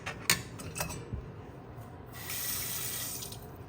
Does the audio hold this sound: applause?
no